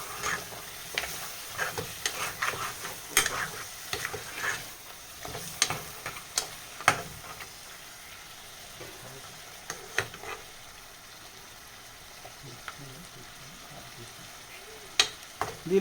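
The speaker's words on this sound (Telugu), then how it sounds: "పసుపు వేసి కొద్దిగా ఇలా కలుపుకుంటాము కర్రీని." Mutton and broad bean curry being stirred after turmeric goes in, a spoon scraping and clicking against the pot in irregular taps over a soft steady sizzle, close and moderately quiet with no talking.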